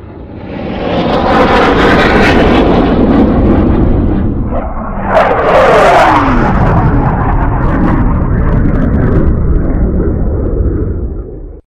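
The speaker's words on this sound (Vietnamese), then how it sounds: "từ xa có tiếng động cơ, tiếng kêu the thé của anh ta cơ đồng minh" Roaring engines of a low-flying squadron of Allied aircraft sweep past at treetop height, loud and continuous, swelling with a sharp whining pass near the middle and fading at the end.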